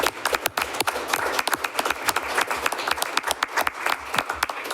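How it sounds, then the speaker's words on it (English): A room full of people at a city council study session applauds steadily, dense clapping at close range that keeps an even intensity throughout. "we should give him a round of applause"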